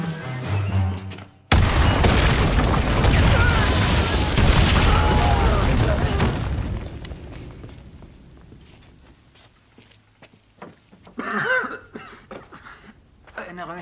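A sudden loud boom from sodium mixed with water erupts in a kitchen and rumbles on for several seconds before fading, followed by quieter scuffling, coughing and shuffling noises.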